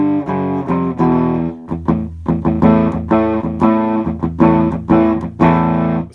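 Electric guitar played through a cheap distortion pedal with the guitar's volume turned down, giving a rhythmic sequence of crunchy chugging notes and chords with short gaps, close and loud.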